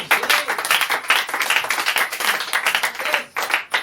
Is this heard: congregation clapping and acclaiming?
yes